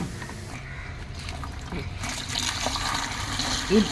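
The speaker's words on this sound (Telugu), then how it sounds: "దీనిలో ఇప్పుడు నీళ్ళు తీసుకుందాం" Water runs and splashes into a bucket being filled to mix a fermented garden plant solution, a steady pouring trickle that grows a little fuller partway through.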